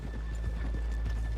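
Horse hooves clip-clop at a steady walking pace in the Red Dead Redemption 2 video game, close and fairly loud over a constant low hum, with no talking.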